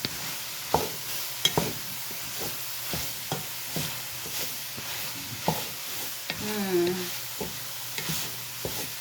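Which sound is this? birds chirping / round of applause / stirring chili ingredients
stirring chili ingredients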